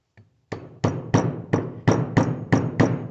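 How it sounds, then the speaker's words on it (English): A hammer strikes a seal into the stabilizer cylinder of a Case 580C backhoe, nine or so evenly spaced metallic blows in a steady rhythm, close and loud with no talking. "pound it down with a hammer"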